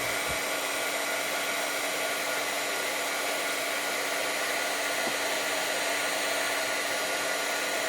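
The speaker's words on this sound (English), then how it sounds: "Let the heat gun heat up a second." A heat gun blows steadily while melting embossing powder for a mixed-media craft piece, a constant loud whooshing hiss of hot air with no pauses and no talking.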